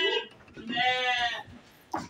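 Goats on a goat farm bleating close by, with one long wavering bleat in the middle and shorter calls around it.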